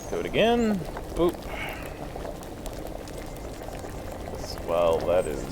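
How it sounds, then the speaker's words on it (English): Potion bubbling on a boil in Kingdom Come: Deliverance, a steady low liquid churn running throughout beneath a voice that rises in brief bursts at the start and near the end. "Well, that is brewing, boiling."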